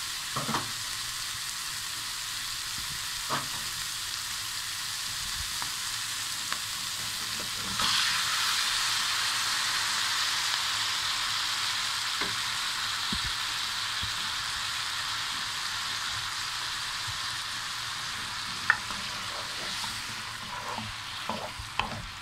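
Tomatoes sizzle steadily in a frying pan for a red-sauce chicken pasta, a broad continuous hiss that swells louder partway through, with scattered clinks of stirring.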